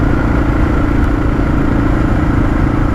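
A Honda XR650L motorcycle on a curvy road, its engine droning steadily and loudly from up close with constant rumble and wind, no voices.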